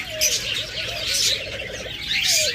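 Pet lovebirds and cockatiels in a sale cage chirp and trill nearby, with rapid warbling calls and bursts of higher chatter repeating several times at moderate loudness.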